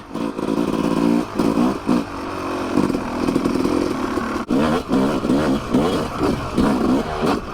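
A Yamaha YZ250 two-stroke dirt bike engine buzzes loud and close on a trail ride, revving up and down in repeated bursts with brief throttle chops and a brief cutout midway.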